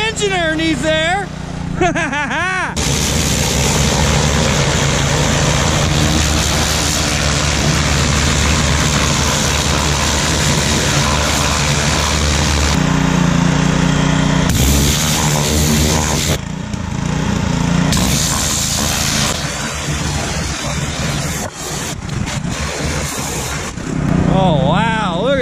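A Chevrolet Blazer fitted with an LS engine runs loudly after starting, settling into a rough, rumbling idle with a few throttle blips, while excited voices talk over the engine noise.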